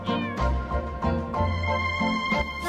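A cat meows repeatedly in a quiet side street lined with many cats in Phetchaburi, Thailand, the cries loud and close, coming in several drawn-out calls.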